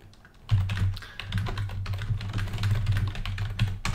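Rapid, heavy keystrokes clatter on a computer keyboard, dense and continuous close to the microphone, with a steady low hum beneath and no talking.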